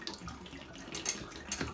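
Water and debris draining from a leaking domestic radiator valve being replaced: a faint, close, steady watery trickle lasting under two seconds, with no talking.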